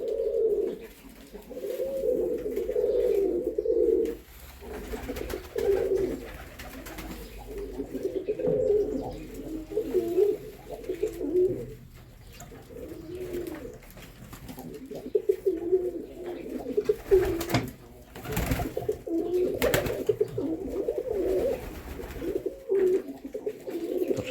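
Ornamental and homing pigeons in a loft cooing in repeated low, throaty bursts, fairly close, with brief pauses between and a few faint chirps.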